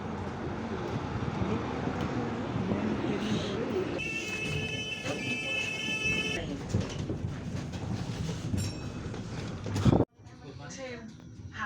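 A train at Wembley Central station in London rumbles and clatters steadily, with a high metallic squeal partway through and an abrupt cut near the end, amid voices and station bustle.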